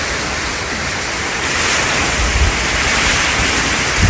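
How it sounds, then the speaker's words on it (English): Water rushes loudly outside during Hurricane Milton in Parrish, Florida, a dense, steady broadband wash with a few low gusty thumps toward the end. "Water running out there."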